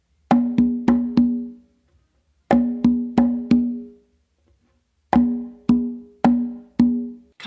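Makuta pattern on three congas with an added fourth hit, groups of four crisp hand strikes with slaps landing on the first and third, resonant drum tones between short pauses, close and loud, no speech.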